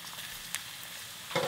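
Garlic frying in extra virgin olive oil for spicy stir-fried sundae-bokkeum, a soft continuous sizzle with a faint tap midway and a brief louder scrape near the end.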